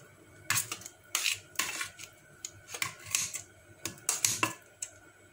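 Kitchen scissors snipping through cooked beef steak with bell pepper, a series of sharp irregular cuts up close, about a dozen snips in quick succession with no talk.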